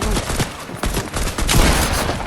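Gunfire in the Fortnite video game: dense, loud bursts of shots crackling continuously over a busy game background, with no talk.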